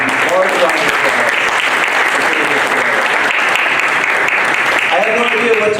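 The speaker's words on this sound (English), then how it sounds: "I think we should all give him a very large round of applause." An audience gives a round of applause, dense continuous clapping at full strength throughout, near and loud, with voices mixed in among the crowd.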